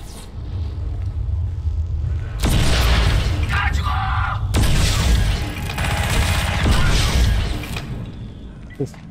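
Loud booming blasts and bursts of gunfire with rumbling, a few heavy shots over several seconds, from combat in the video game Crysis.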